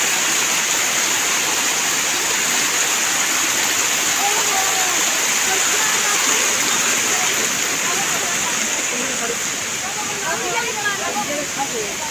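A waterfall at Amboli Ghat roars in a loud, steady, hissing wash of falling water that fills the whole stretch, with people faintly talking beneath it.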